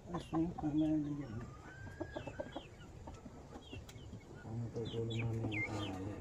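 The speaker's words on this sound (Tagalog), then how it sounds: "bibigyan ko muna ng patuka ang manok" Several chickens cluck and chirp nearby in scattered bursts as they peck at feed, with faint pecking sounds and people talking quietly in the background.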